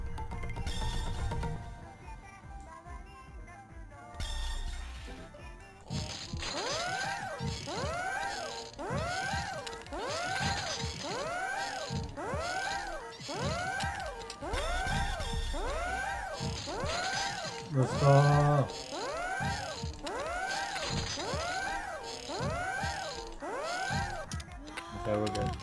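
Corner screws on a cassette bomb in the video game Suzuki Bakuhatsu are unscrewed in a long run of repeated ratcheting, squeaking twists, each turn a clicky mechanical sweep, with occasional grunts and talk over them.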